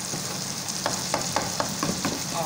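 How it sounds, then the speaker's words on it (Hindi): A spoon stirs boiled brain masala in a hot pan, scraping in a steady series of sharp strokes about every quarter second over a constant bed of sizzling. "तो इसको सिर्फ मिक्स करेंगे इसमें"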